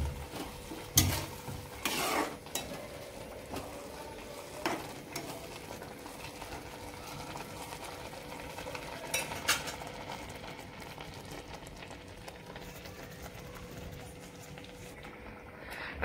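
A spoon scrapes and stirs carrot halwa in a pan after milk is poured in, sounding as faint, intermittent clinks and scrapes over a quiet sizzle, with a few sharper knocks against the pan.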